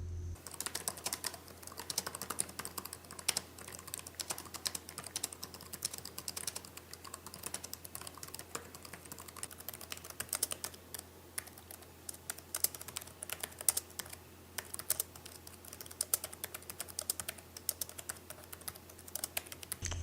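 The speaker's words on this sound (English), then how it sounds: "the keyboards on these newer ThinkPads just aren't quite as springy as the older ones. You can even hear the difference," Continuous typing on the keyboard of a ThinkPad X240 laptop, a steady quiet patter of soft, less springy key clicks close up, with no voices.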